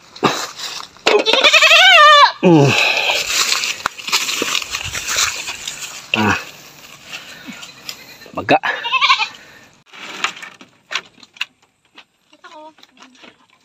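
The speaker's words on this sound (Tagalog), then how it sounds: "dito tayo sa mga kambing mga usilo" Goats at a Philippine farm bleat at feeding time, several loud, wavering cries near the start and a few more later, with people talking throughout.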